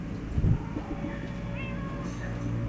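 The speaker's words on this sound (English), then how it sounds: "That almost sounds like..." Several cats meowing in the video game Minecraft Story Mode, short rising and falling mews heard at moderate distance over a low in-game ambience with rain-like hiss.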